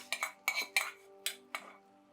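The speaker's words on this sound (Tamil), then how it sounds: "ஊற்றிட்டு கூட போட்டு நீங்கள் நல்லா கிளருங்க" A spoon stirring wheat-flour Tirunelveli halwa in a pan, five or six quiet metallic clinks and scrapes in an uneven rhythm, close and isolated.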